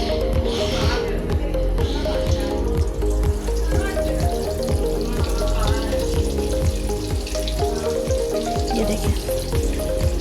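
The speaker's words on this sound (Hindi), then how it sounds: "अब हम समोसे फ्राई करेंगे।" Keema samosas deep-frying in hot oil in a wok, a loud continuous bubbling sizzle with rhythmic tapping or clinking throughout, while a person speaks briefly over it.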